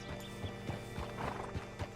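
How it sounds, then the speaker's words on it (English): Horse hooves clip-clop in Red Dead Redemption 2, a quiet run of steady, evenly spaced hoofbeats with a faint snort or whinny mixed in. "Hitch your horse up here."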